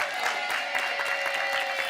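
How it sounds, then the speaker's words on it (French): A studio audience applauds contestants on the French TV game show Personne n'y avait pensé, a steady, dense patter of many hands clapping at close range that holds for the whole stretch. "On applaudit Gwendal et Thomas."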